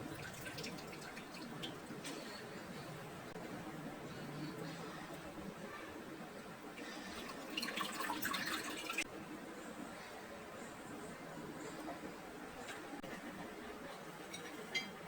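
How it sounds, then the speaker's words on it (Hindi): Washed vegetables wrung out by hand in a home kitchen, giving faint dripping and trickling water, with a brief louder splashing burst midway and no speech. "पानी में हम इसको अच्छे से जो है निचोड़ लेंगे। इसका पानी बिल्कुल हम ड्राई कर लेंगे।"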